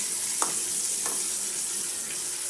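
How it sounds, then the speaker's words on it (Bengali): Potato pieces sizzle steadily in hot oil while being prepared for beef biryani, a continuous close frying hiss with two or three soft clinks of a utensil stirring, and no voices. "তো এখন হলো আলুগুলা ফ্রাই করে নেব। এতে আলুগুলোকে ভেজে নিচ্ছি।"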